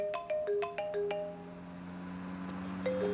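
Mobile phone ringtone playing a bright, repeating melodic chime of quick tones, fairly quiet against a low background hum.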